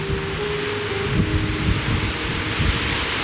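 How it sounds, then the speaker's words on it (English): Strong wind buffets the microphone at the Chessman Ridge overlook, 10,460 feet up in Cedar Breaks National Monument, a constant close roar of gusts with no voices. "Woo, it's windy."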